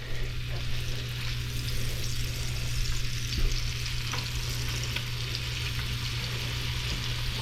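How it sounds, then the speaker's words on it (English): Wahoo fillet frying in butter in a pan while being basted, a steady close sizzle and crackle with a low hum beneath, no talking. "We'll just start basting the top of it."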